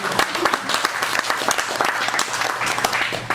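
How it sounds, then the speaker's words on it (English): Audience at a wedding reception claps steadily, a dense, loud burst of many hands filling the short stretch with no talk over it. "thank you for clapping, it gives me time to read my notes"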